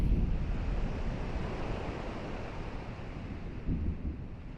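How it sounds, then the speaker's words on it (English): A storm in the video game Kingdom Hearts, with wind and waves making a steady roar and surf surging loudest at the start and again near the end, with no talk. "A storm?"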